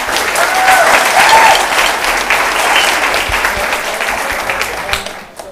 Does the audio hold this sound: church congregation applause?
yes